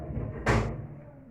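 An indoor door closes once with a short, fairly loud thud partway through, set against a steady low room hum in a home.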